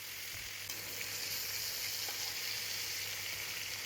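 Fish frying in hot oil for a tangy Assamese fish curry with tomato, a loud continuous close sizzle with soft spattering, heard alone without talk.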